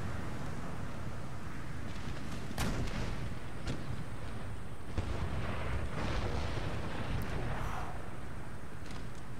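Artillery fire in the Empire: Total War battle game, with dull booming cannon shots rolling out at irregular intervals over a constant roar of battlefield noise, fairly distant and muffled.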